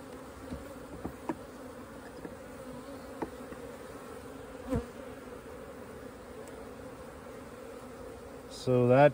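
Honey bees buzz steadily around an open hive box, a faint continuous drone with occasional closer passes, and a louder buzz rising at the very end.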